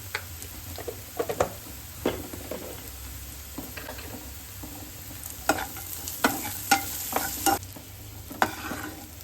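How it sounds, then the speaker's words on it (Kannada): Onions and peanuts fry in a pan for a palak dish while a utensil stirs and scrapes in irregular clusters of sharp clacks over a soft steady sizzle, close and without talk. "ಈಗ ಈರುಳ್ಳಿ ಸ್ವಲ್ಪ ಬ್ರೌನ್ ಕಲರ್ ಬಂದಿದೆ."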